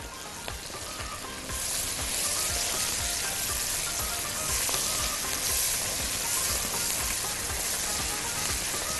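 Paprika and coriander stirred into hot oil in a frying pan while making moussaka, giving a steady close sizzle with soft scraping of the stirring throughout.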